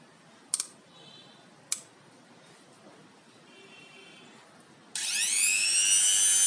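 An electric drill and grinder tool is switched on after two sharp clicks, then spins up into a loud, steady high-pitched whine that runs continuously to the end.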